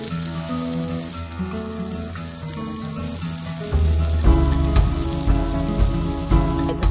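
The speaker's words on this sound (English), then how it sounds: "Steaks are cooking super fast" Steaks cooking directly over an open campfire with no grate, riverside camping, sizzle and crackle becoming louder and denser partway through, steady close hiss with sharp pops.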